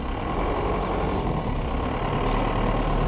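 A car runs on a completely flat front tyre, pressed down and rubbing as the car strains forward, with a loud continuous low rumble and grinding drone that stays close and steady.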